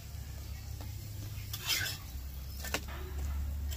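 An aloo paratha fries in a pan with a soft, steady sizzle, broken by a couple of brief scraping and clinking sounds from a utensil against the pan, heard close and without talk.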